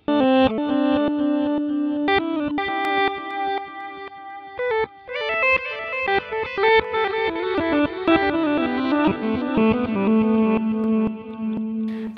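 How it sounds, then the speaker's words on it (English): Guitar run through a Line 6 Helix glitch delay with feedback raised and mix at full, producing reversed, swelling tones and stacked repeating notes that build continuously and loudly with no talk. "To get some of those kind of cool reverse guitar tones."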